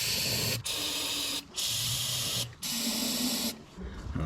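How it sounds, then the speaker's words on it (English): Three long bursts of fogging oil sprayed into a boat engine, each about a second, hissing loudly with short pauses between them and faint mechanical noise underneath. "Spray fogging oil in"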